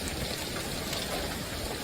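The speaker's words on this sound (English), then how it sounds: "You can hear it hitting off of everything, that rain and wind blowing those hailstones there through" Ping-pong-sized hail and wind-driven rain pelting everything during a storm in Bean Station, East Tennessee, a dense, continuous loud hiss of impacts with no letup.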